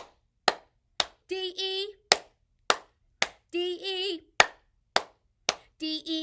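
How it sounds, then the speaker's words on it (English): Children clapping hands together in rhythm at a library Pride story time, sharp single claps in a steady pulse alternating with sung phrases between them. "1, 2, 3 claps."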